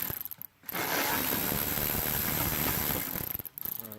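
A ratchet wrench backing a bolt out of a car door panel, a dense continuous clicking whir that runs steadily for a few seconds between short separate clicks at start and end, close and loud.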